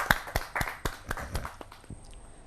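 Scattered sharp claps from a Hindi poetry gathering (kavi sammelan) audience, about half a dozen crisp hand claps close together that thin out and fade after the first second and a half rather than building into sustained applause.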